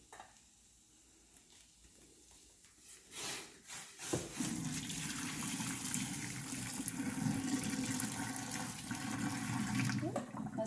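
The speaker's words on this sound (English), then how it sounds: "We're gonna drain our potatoes." Boiled potatoes poured into a colander in a kitchen sink: after a quiet start with a few clunks, a steady gush of draining water rushes for several seconds, fairly close.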